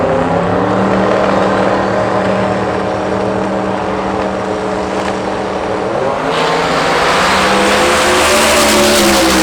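A 1979 Chevrolet Malibu drag racing car at Hot Rod Drag Week roars loudly down the strip, its engine holding a sustained, powerful drone with a rising rasp near the end.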